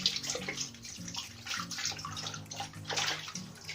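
Grape leaves are washed under running water, a close, steady gush from a tap with shifting splashes as the leaves move through the stream.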